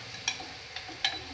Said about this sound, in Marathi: झणझणीत फोडणी झालेली आहे कुकरमध्ये सुद्धा।